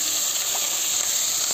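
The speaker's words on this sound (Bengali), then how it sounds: "তেলের মধ্যে ছেড়ে দিলাম।" Papaya and potato cubes sizzle steadily in hot sunflower oil for a vegetable dish, a constant close, bright frying hiss without pause and with no talking.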